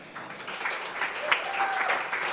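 A conference audience at a London climate action event applauds the speakers, giving a dense, moderately loud burst of clapping that swells and continues throughout.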